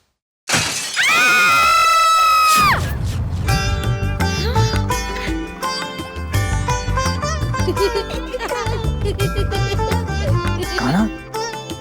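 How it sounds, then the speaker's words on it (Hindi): A clay pot shatters with a sharp crash in a Hindi mythological TV drama, followed by a loud dramatic music sting with ringing tones that carries through the rest of the moment. "ये मटकी फूटी"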